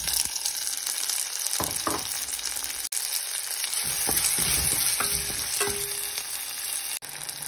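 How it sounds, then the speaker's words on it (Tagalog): Onion and tomato sautéing in a pan, a steady broadband sizzle throughout with a few stirring scrapes and clinks of a utensil against the pan, close and continuous, no talking. "Then, idagdag na rin ang kamatis at ituloy ang paggisa."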